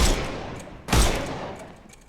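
Gunfire in a Sherlock Holmes Chapter One combat sequence: a loud, sharp shot bursts out near the middle and rings away, with a fainter blast at the very start and no talk.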